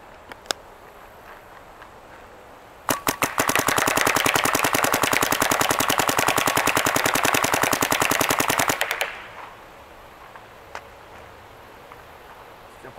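A Dye DSR paintball marker loaded with Empire Ultra paintballs fires a long rapid burst of sharp, evenly spaced pops for about six seconds, with a few isolated single shots before and after.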